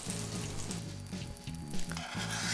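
Salted butter sizzles in a frying pan heated on medium-high, a soft steady crackle that goes on without a break beneath a faint repeating tonal background.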